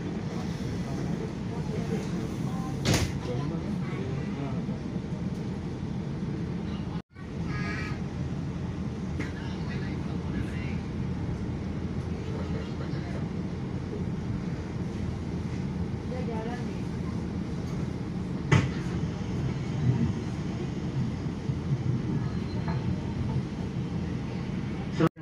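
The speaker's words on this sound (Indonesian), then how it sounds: "Kereta api Pangrango berangkat dari stasiun Sukabumi tepat." The Pangrango train departing Sukabumi station, a steady low rumble and rattle of rolling carriages heard from on board, continuous, with a brief dropout and occasional sharp clanks.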